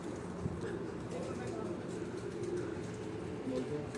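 Pigeons coo in low, soft murmurs under a steady hum of background noise, continuous and moderately close, with some faint voices mixed in.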